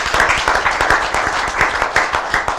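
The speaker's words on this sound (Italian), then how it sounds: "applauso doveroso" Steady applause from a gathered crowd at a women's off-road event in Negrisia, honouring a fallen member of the off-road community; dense, continuous clapping fills the whole stretch at close, loud level with no voices.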